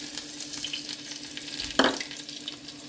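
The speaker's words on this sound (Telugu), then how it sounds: "వేడైంది, వెల్లుల్లిపాయలు వేసేద్దాం." Garlic frying in a hot pan for dal tempering, a steady close sizzle with a louder crackling burst as more goes in, no talking.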